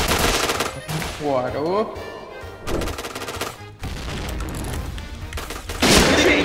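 Rapid gunshots from Point Blank, a first-person shooter, including sniper and rifle fire, sounding as repeated sharp bursts mixed with game effects while a player reacts.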